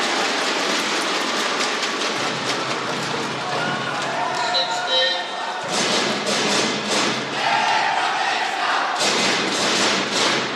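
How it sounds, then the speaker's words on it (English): Indonesian fans in a badminton arena at a men's doubles final roar loudly and continuously, with surges and drops in the crowd noise and rhythmic chanting and clapping through the din. "the Indonesian fans very vocal, completely drowning out the Korean fans"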